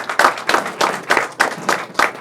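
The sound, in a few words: audience round of applause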